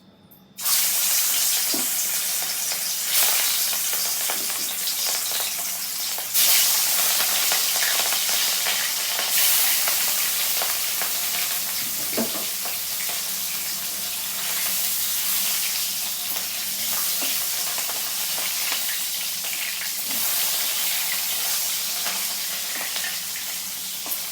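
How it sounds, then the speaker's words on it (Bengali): Rohu fish frying in hot mustard oil in a kadai gives a loud, continuous hiss of spattering oil that starts abruptly and holds steady for over twenty seconds, close up and with no voices. "তেল দিয়ে দিয়েছি সর্ষে, তেল গরম হয়ে গেছে, এবার মাছটা ভেজে নেব"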